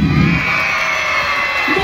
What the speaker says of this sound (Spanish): ¡Aplausos y gritos del 2!